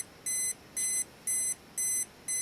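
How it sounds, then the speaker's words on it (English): An Olympus XA2 film camera's self-timer beeps steadily, five short evenly spaced high tones, clear and close against a quiet background. "We hear the beep"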